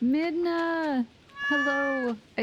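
Two drawn-out Stardew Valley cat meows, close and clear, separated by a short pause, with the start of a third at the end.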